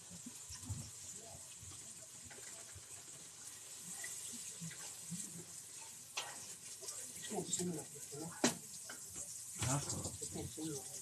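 Bacon sizzles quietly in a pot as it browns and renders its fat, a soft crackling bed with occasional stirring scrapes and clicks and faint background voices.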